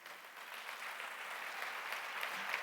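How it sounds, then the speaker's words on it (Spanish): A church congregation claps steadily together, a dense, even wash of applause that holds at the same level from start to finish with no voices breaking through. "Dale un aplauso al Señor"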